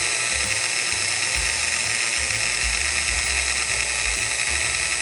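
A Sunbeam MMA Mixmaster stand mixer motor runs as its speed control is turned down, giving a continuous high, buzzing whine, close and steady, with a faint low rumble underneath and no speech.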